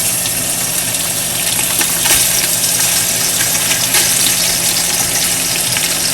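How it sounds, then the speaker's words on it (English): Pork belly frying in a pan, a dense continuous sizzle and crackle of spitting fat, steady and close with small pops scattered throughout and no voices. "now we're going to add the pork belly. It's going to sizzle."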